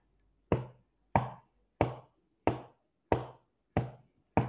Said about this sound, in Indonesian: Atau mengetuk meja